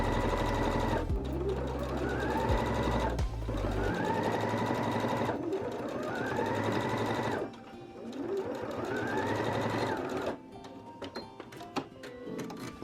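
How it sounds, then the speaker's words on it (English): A sewing machine stitching a 5/8 inch seam on a blouse bodice, running in several steady whirring bursts with short pauses between, close and clear. "we're going to sew that on 5/8 inch seam allowance."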